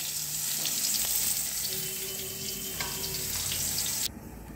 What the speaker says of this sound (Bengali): দেখুন, পটলটাও ভাজা হচ্ছে।